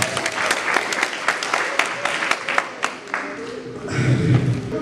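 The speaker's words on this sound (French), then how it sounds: "Applaudissements." Guests at a wedding ceremony applaud in a lively burst of dense clapping. It thins out near the end, where a voice begins speaking.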